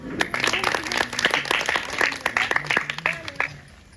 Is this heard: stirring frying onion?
no